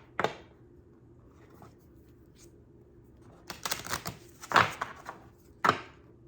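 A deck of Samhain oracle cards being shuffled by hand in a quiet room: a short riffle, then a near, crisp flurry of several papery shuffles with pauses between them.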